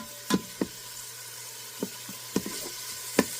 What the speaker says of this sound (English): you're gonna be frying like all these vegetables together